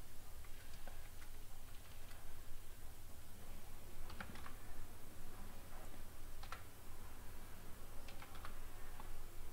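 Quiet irregular taps of typing on a computer keyboard, scattered light clicks over a low steady background hum.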